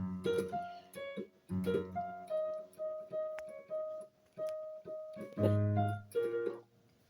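A piano plays the opening of a verse of a song, with sustained chords and melody notes in short separated phrases, close and clear with no talking.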